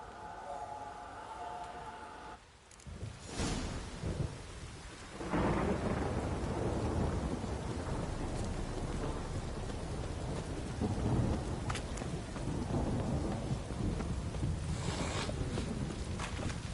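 Rain falls steadily in The Witcher 3: Wild Hunt while a deep thunder rumble rolls in and lingers, loud and close, with faint crackles scattered through the downpour.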